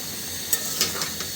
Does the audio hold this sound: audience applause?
no